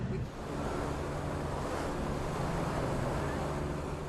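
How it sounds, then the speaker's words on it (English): Powerful ocean surf breaks steadily on the jagged reef off Flint Island, a remote Pacific atoll, with a continuous loud roar of crashing water and wind buffeting the microphone throughout. "The only way for him to reach Flint Island is to swim through powerful waves and risk being ripped to shreds on the jagged reef."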